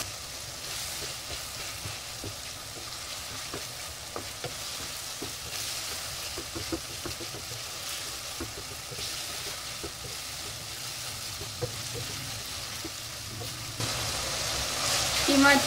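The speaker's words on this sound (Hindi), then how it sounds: "कीमे को 5 से 7 मिनट हम इसी तरीके से इसको भूनेंगे।" Minced meat (keema) frying in a pan, a continuous close sizzle with frequent light scraping and stirring clicks, growing louder near the end.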